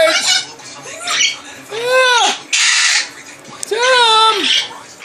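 Pet birds squawk and screech loudly at close range in repeated harsh bursts with rising and falling calls, separated by brief gaps, with a person's voice nearby.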